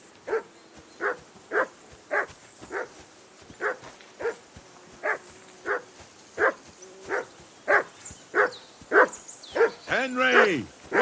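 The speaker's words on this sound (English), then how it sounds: "Whistle at that mutt of yours to stop barking!" A dog in Kingdom Come Deliverance 2 barks over and over in a steady, evenly spaced rhythm, loud and close, about twenty barks in all, ending in a rising, whining yelp.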